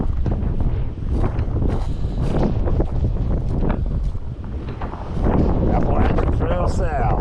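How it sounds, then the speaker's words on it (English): Strong wind on Mount Washington buffets the microphone in a continuous loud roar, swelling toward the end, while a person talks beneath it. "Gotta know where to get out of the wind at."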